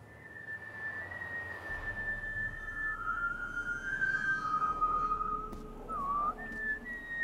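A long, wavering whistled tune drifts over a quiet midnight ambience in The Witcher 3, a single clear tone sliding between pitches, mid-distance, with faint background rustle beneath.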